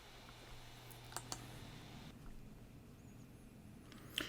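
A few faint, sparse clicks of typing on a computer keyboard in a quiet room, with a low hum underneath.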